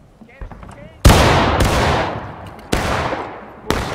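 Musket fire in the video game War of Rights, with four loud, sharp cracks spaced about a second apart, each trailing into a long rolling echo, preceded by fainter distant shots.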